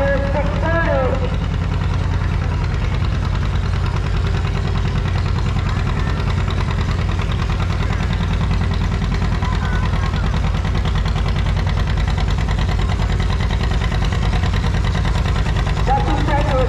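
A 1959 John Deere 630 antique tractor idles at an antique tractor pull, its loud, steady two-cylinder chugging running unbroken throughout, with voices faintly audible in the background.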